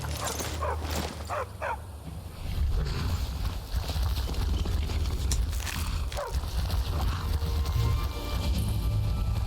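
Hooves of a horse clip-clopping in Skyrim, irregular thuds close by, mixed with animal yelps and game ambience and no talking.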